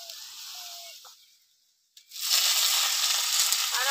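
Fresh spinach hits hot spiced oil in a pan: after a quiet moment, a loud, dense sizzle bursts out and holds steady and close, with no voice over it.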